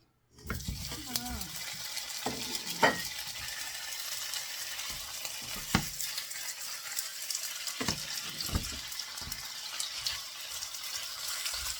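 Ingredients are stirred in a pan over a steady, watery frying hiss, with intermittent scrapes and clinks of utensil on metal, while a person talks briefly at times.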